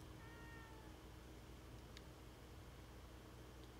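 A cat in The Evil Within 2 meows faintly early on, a thin wavering call over a steady low hum and hiss, with soft ticks later and no talking.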